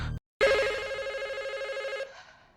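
Telephone in a film scene ringing with a sharp electronic trill that starts after a brief silence and holds steady for about a second and a half before stopping, loud and close.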